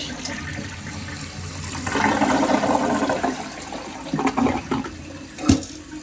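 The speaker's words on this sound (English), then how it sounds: "Flush." A toilet with a newly replaced fill valve flushes with a steady rushing gush of water that swells and then drains with gurgles, close by, with no talking.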